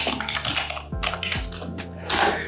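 Quick clicking keystrokes on a computer keyboard as a search is typed, a short close-up run of taps with no voices.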